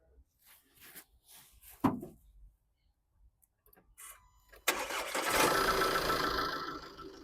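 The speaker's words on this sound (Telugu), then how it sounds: "సింగిల్ సెల్ఫ్లో స్టార్ట్ అవుతుంది సార్ బండి" A 2017 Tata Hexa XTA diesel SUV cranks and fires on the first try after a few faint clicks, then settles into a loud, steady diesel idle up close.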